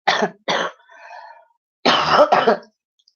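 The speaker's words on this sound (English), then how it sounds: "And I keep coughing because" Two sharp coughs, a brief raspy throat sound, then two more coughs after a pause, close and loud.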